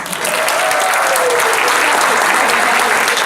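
Concert crowd applauding for a band member, a loud, dense wash of clapping that holds steady throughout, close and full with no pauses.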